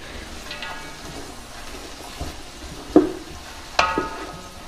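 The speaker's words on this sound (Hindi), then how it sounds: "ये प्याज हमारे नरम हो चुके हैं इसमें अब हम गाजरें डालेंगे इसमें ये गाजर डाल देंगे" Carrots tipped into softened onions frying in a pot for vegetable rice, then stirred: a low continuous sizzle with a few sharp scraping knocks of the spoon, no voices.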